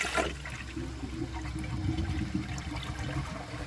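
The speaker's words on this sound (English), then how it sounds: "first let's try a press and release flush" A 2012 Toto Drake toilet gets a press-and-release flush that ends up weak, with a brief click at the start and then a steady, even rush of water swirling in the bowl, close and moderate in level.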